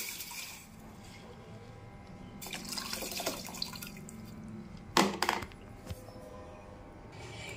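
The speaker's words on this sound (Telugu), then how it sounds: "అలా నానబెట్టుకున్న తర్వాత ఇవన్నీ ఇందులో పోస్తున్నామండి." A soaked rice and water mixture is poured into a container for a hair-growth rinse, a close liquid splash with a brief louder gush and dripping near the end, over quiet kitchen background.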